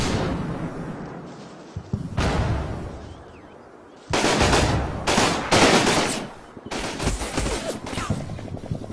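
Gunfire rattles in the Combat Mission: Battle for Normandy war game, with bursts of rifle and machine-gun fire and sharp blasts, loud and clustered, separated by brief quieter gaps.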